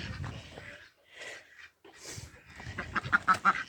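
Free-range chickens cluck and murmur nearby on a farm, with a few sharper clucks toward the end.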